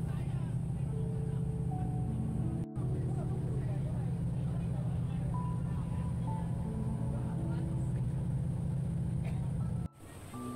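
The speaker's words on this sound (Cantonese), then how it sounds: "船公司老闆見到碼頭上仲有好多客人，於是就用佢嘅私家船去載我哋" A small private boat's engine drones steadily throughout a ferry ride between piers near Tap Mun, a continuous low rumble with faint background voices and two brief dropouts.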